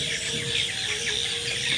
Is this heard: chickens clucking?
yes